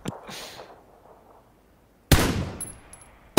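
Gunfire in PUBG in a parking area: a short crack at the start, a quieter stretch, then a loud close burst of shots followed by fading echoes and another sharp report at the end.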